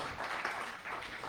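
A church congregation applauds during a Spanish-language sermon, a brief, fairly faint wash of steady clapping with no speech over it.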